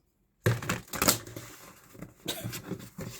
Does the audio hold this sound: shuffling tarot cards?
yes